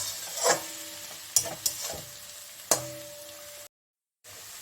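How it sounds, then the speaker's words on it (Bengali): Cabbage with green and red chillies frying in plenty of oil, being scraped and stirred in a pan: a low crackling sizzle broken by several sharp spatula knocks and scrapes, then a short silence, no voices. "এই পোড়া পোড়া করে বেশি বেশি করে বাঁধাকপি ভাজবো"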